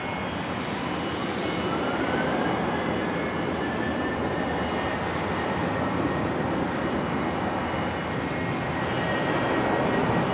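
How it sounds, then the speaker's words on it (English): Virgin jet airliner taking off from Brisbane International Airport bound for Sydney: a steady, full engine roar with a faint rising whine, sustained and fairly strong for ten seconds, no voices. "Virgin 978 heading off here to Sydney."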